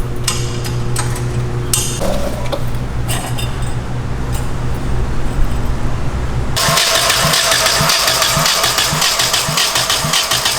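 A rear-wheel-drive Honda Civic with a freshly installed engine and the wastegate removed cranks for several seconds, then catches and fires up into a loud, rough, steady idle close by.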